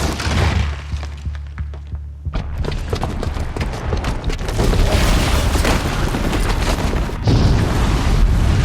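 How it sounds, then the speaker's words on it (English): A bomb booby trap goes off in Horizon Zero Dawn with a huge, sustained explosive roar, continuing rumbling and crashing debris that fills the clip loudly after a brief lull. "the booby trap on the bomb downstairs is gonna get set off"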